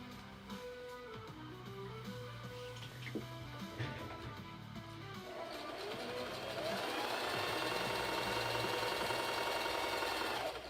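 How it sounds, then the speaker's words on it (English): A sewing machine stitching small straps together, running in short bursts at first, then settling into a steady continuous whir, close and moderately quiet. "I'm just going to sew these little straps together."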